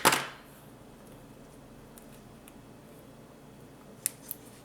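Scissors snip through designer paper for a scrapbook page: one loud crisp cut opens the stretch, a quiet pause follows, then two short faint snips come near the end.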